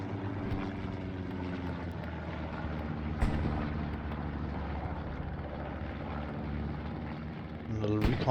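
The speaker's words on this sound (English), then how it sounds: "Little recon plane comes up over the top." A recon plane drones overhead on the Utah Beach map of a World War II video game, a continuous low engine hum that swells slightly near the end.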